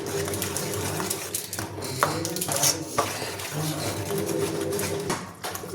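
Chilli powder being stirred into chicken sambar in a pot, with a steady run of metallic spoon scrapes and clinks against the pot, fairly close and continuous, and no talk.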